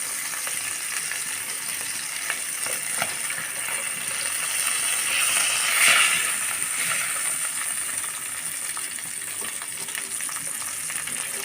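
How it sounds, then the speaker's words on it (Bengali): Tatkini fish fry in hot oil in a pan, producing a continuous close sizzle that swells briefly midway, with faint clinks from turning the pieces and no talking. "মাছগুলো আমি উল্টিয়ে পাল্টিয়ে লাল লাল করে ভেজে নিয়েছি"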